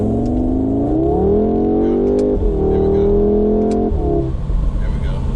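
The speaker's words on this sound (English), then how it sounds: "We got a little pops going on." A 2022 Audi S3 sports sedan revving and downshifting close by, its engine pitch stepping up and down in distinct shifts with a few sharp exhaust pops and crackles between them.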